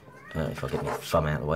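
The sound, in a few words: cat meowing in the background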